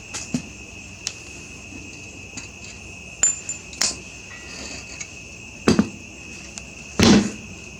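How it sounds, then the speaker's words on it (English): Hammer striking metal while driving out a front pin on an old Moto Mow mower, several sharp irregular taps and clanks spaced apart, the last blows louder, in a quiet workshop with faint insect chirping. "Up front on the Moto mode, it's time to pull this pin."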